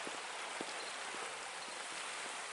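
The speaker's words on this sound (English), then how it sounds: "Again, the Swatara Creek runs through here." The Swatara Creek runs along a rail trail, its flowing water making a steady, even rushing wash that stays level throughout with no voices.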